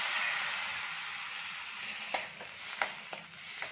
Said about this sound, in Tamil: இதெல்லாம் ஒன்றோட ஒன்று கலக்கிற வரைக்கும் நல்லா வதக்கிட்டோம்னா போதும்.